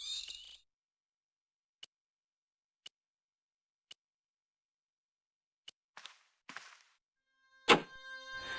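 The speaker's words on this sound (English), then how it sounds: "The hardened plaster cast fitted snugly into the 5 matching sockets. There was a soft thud, then silence." In the Broken Sword: The Shadow of the Templars video game, a hardened plaster cast fits into five matching sockets: a row of sparse, sharp little ticks over silence, a short rustle, then a single louder thud-like knock near the end.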